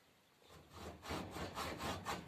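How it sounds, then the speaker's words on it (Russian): A hand saw cuts through a piece of wood clamped in a vise, making rhythmic rasping back-and-forth strokes that build from a quiet start to steady, close strokes, with no talking. "Беру ножовку и распиливаю на две половины."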